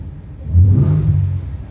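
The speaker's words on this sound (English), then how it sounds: "And the exhaust does sound a bit different." Exhaust of a new pickup truck revving up close, a deep rumbling engine note that swells and holds for under two seconds with no talk over it.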